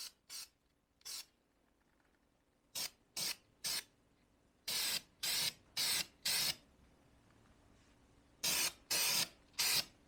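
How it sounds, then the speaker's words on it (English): Short bursts of aerosol spray paint hiss in quick, separate puffs during a test spray on an F-100, several single blasts followed by longer sprays, close and fairly loud against a quiet background. "We'll just do a little test spray here to check out the color."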